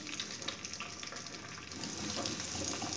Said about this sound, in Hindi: सबसे पहले मैं अंडा फ्राई करूंगी।